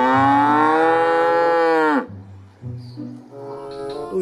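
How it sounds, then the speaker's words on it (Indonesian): Cattle moo: one long, loud, drawn-out bovine call lasting about two seconds, followed by softer lower grunting sounds and faint background noise. "Wow, sapi teman-teman."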